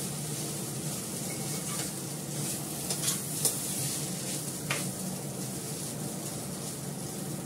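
Food frying in a small amount of oil in a pan gives a steady, soft sizzle, with a few faint stirring scrapes and clinks breaking through now and then.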